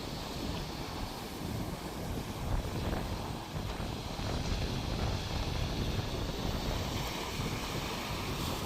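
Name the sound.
wind at the seaside while mackerel fishing at Hythe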